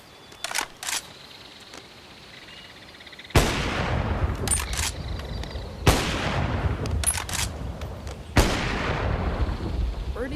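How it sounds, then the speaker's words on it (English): Sniper rifle from the Rexmag weapon pack firing in BONELAB, three loud sharp shots spaced a few seconds apart, each with a long booming tail, after some light clicks and handling at the start. "this is the sniper rifle from the Rexmag weapon pack"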